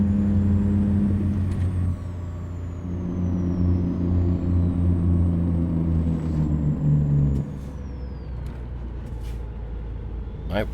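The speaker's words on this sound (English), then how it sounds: "I braked very firmly there." Hard braking of a heavily modded truck with a 2150 hp engine in American Truck Simulator: a loud, steady low engine and road rumble runs throughout, with a pitch sweep and a sudden drop as the brakes bite near the end.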